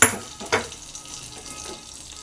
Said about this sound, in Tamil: கடுகு பொரிஞ்சு கருவேப்பிலை போட்டுடலாம்.